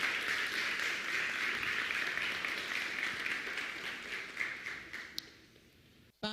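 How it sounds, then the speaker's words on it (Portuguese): A church congregation applauds, dense steady clapping from many hands that gradually thins and fades out over several seconds. "E eu queria que vocês a recebessem com uma salva de palmas."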